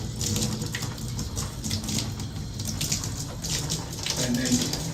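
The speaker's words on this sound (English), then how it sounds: "And then shower turns on here." A newly fixed shower runs in a leaking bathroom, with a steady broadband hiss of water spraying throughout and no clear pauses.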